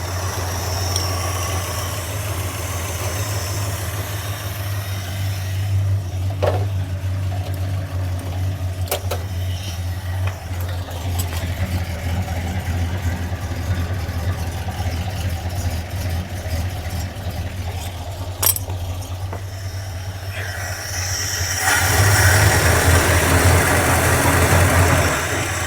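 A 1976 Dodge Club Cab Adventurer engine idles roughly with a steady low rumble throughout, smoke pouring from the exhaust, occasional clicks over it, and the idle swells louder near the end.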